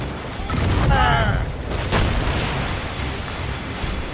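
Ship cannons fire in a naval battle in Assassin's Creed Rogue, heavy booming blasts rolling over loud sea and battle ambience, with shouting voices in the mix.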